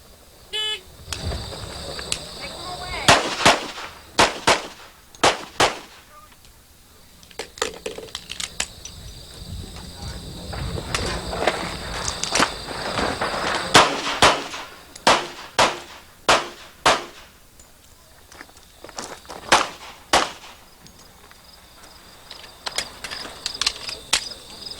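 Pistol shots from a single shooter firing through a USPSA competition stage, sharp loud cracks in quick bursts and scattered singles with short pauses between strings, amid faint outdoor background noise.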